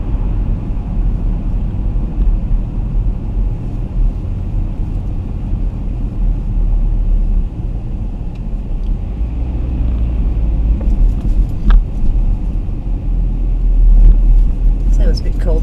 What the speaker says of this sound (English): So we're driving something with quite a large engine.